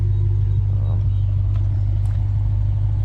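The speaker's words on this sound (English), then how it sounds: "When you open it, you definitely get a low frequency just hum, just rumble" A Lexus IS500 fitted with an RR Racing R2 axle-back exhaust idles with a steady, deep, droning rumble, close and constant for the whole stretch.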